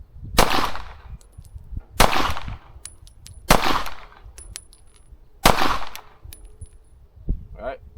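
Four loud, sharp pistol shots from a Shadow Systems CR920X fired at an outdoor range, spaced roughly one to two seconds apart, each with a short ringing tail, then a faint metallic clink at the end.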